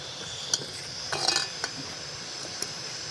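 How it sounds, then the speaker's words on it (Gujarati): A spoon stirring chavanu, a Gujarati vegetable dish, in a metal pot: a few sharp clinks and a short cluster of scraping taps against the rim, quiet and close, with low background hiss between. "પછી એને સહેજ હલાવી નાખશું."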